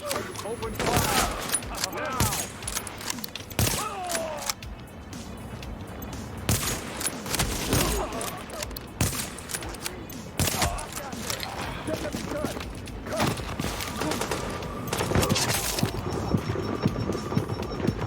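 Gunfire rattles in a video game, dense repeated shots and bursts continuing throughout at close range, with a voice speaking at times underneath.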